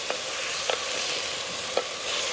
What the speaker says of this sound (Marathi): आता मस्त असं मिक्स करून घेते